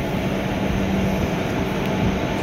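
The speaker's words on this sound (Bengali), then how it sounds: "তো ট্রেনটা বেশ ভালোই স্পিডে যাচ্ছে" Loud, steady roar of a passenger train on the Kasara line rolling along at speed, a dense unbroken rumble with no voices.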